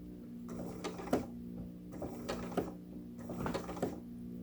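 A sewing machine stitches a blanket stitch binding on fabric, its close, quiet motor hum overlaid by rhythmic mechanical clicks and thumps repeating about every half second.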